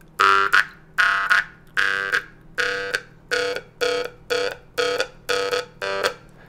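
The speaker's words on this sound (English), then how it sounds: "The trick is if you want to kind of give a cutoff is to strike first and then then mute." A jaw harp twanging about nine times in a steady rhythm, each buzzy note struck and then sharply muted, close and clear with no talking.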